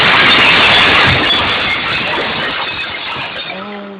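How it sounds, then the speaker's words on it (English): Glass shattering and tumbling down an escalator, a loud crash followed by a long cascade of tinkling shards that slowly fades over several seconds, ending with a faint tone. "that was like the longest sound of breaking glass I've ever heard"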